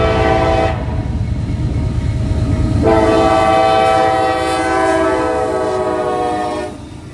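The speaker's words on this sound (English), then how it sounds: "we should have a northbound coming here soon on the closest track." A northbound train passes on the nearest track with its horn sounding in long chords that come and go, over a loud continuous rumble of rolling wagons and clattering wheels close by.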